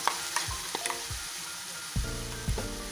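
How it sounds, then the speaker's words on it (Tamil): A spoon scrapes and stirs cooked cassava into a ground coconut mixture in a hot pan for a Kerala tapioca kootu, giving a few distinct, evenly spaced stirring strokes over a soft sizzle. "வெந்த மரவள்ளி கிழங்க வந்து இதில் போட்டு கிளறினா போதும்"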